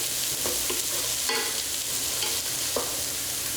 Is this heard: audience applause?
no